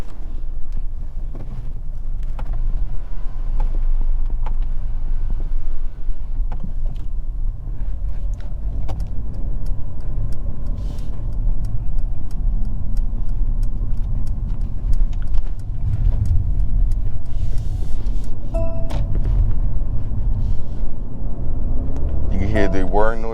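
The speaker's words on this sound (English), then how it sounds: "Hear the whirring noises from the electric motor and the turbo" Steady whirring from the electric motor and turbocharger of a 2022 Mercedes C300 4matic, heard from inside the cabin as a continuous low drone with road rumble and faint clicks, no talking.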